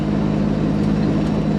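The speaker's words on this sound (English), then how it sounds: "Obviously, moving, there's a lot more exhaust noise" Pontiac Fiero exhaust heard from inside the moving car on a public road, a steady loud low drone with engine rumble that holds evenly throughout, with no talking.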